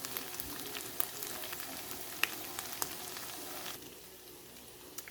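An organic potato medley frying in a pan gives a continuous fine crackling sizzle with scattered sharp pops, close but soft, easing slightly toward the end.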